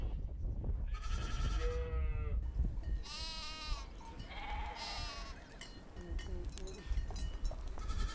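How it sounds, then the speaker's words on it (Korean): Goats and sheep kept as livestock in a Himalayan mountain farming area bleat repeatedly in loud overlapping calls, several animals close by over steady outdoor noise. "주로 키우는 가축은 염소와 양이다."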